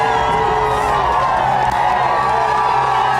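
A large Big Brother crowd cheers and screams loudly and continuously as an evicted housemate comes out, with high whoops and shrill voices blending into a dense roar.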